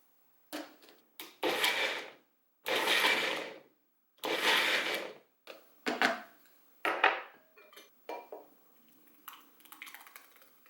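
A Magic Bullet blender pulsing chunky salsa of tomato and onion, giving about a dozen short whirring bursts separated by silences, the longer pulses loud and grinding and the later ones shorter and lighter.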